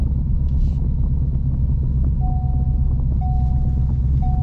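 A 2021 Ford Mustang Mach 1 cruising along a road, with a steady, heavy low engine rumble and road noise throughout and a few faint whistling tones near the end.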